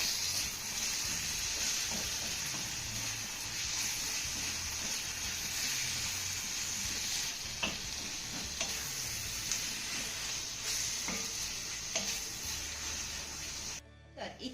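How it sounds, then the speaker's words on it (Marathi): Drumstick bharit masala with chili powder and turmeric sautéing in a pan: a continuous bright sizzling hiss with occasional soft stirring scrapes, steady throughout and cutting off abruptly at the end. "आता हे सर्व साहित्य आपल्याला पुन्हा एक ते दोन मिनिटं चांगलं परतून घ्यायचं आहे"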